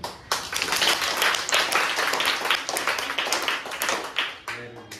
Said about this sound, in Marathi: आता 1 2 3 आनंदाची टाळी